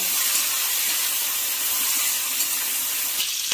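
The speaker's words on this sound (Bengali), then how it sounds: "তেল গরম হয়ে গেছে, উচ্ছেটা ভেজে নিচ্ছি" Bitter gourd pieces sizzle in hot oil with a steady, bright hiss throughout for Bengali shukto, with no voices heard.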